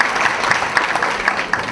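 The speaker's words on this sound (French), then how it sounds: "Une bonne main d'applaudissements." Steady applause from an audience at a volunteers' evening event, dense and continuous clapping throughout with no voices standing out.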